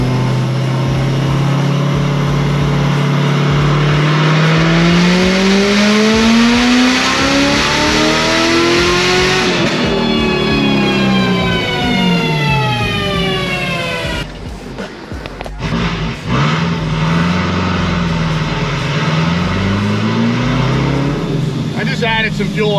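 A supercharged, ported LT4 V8 in a car screams through a full-throttle pull, pitch climbing steadily for about ten seconds, then winding down and settling into a lumpy idle with a voice speaking over it.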